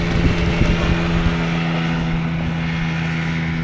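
A ThrustMe Kicker electric outboard motor pushes a small boat against the tide at power setting 2, giving a steady, close whirring drone with a constant low hum and wind or water wash throughout, without talk.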